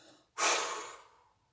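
A long relaxed exhale through the mouth during a sophrology breathing exercise, starting abruptly as a loud breathy rush close to the microphone and slowly fading away over about a second.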